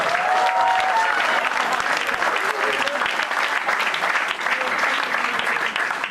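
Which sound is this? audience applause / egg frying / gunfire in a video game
audience applause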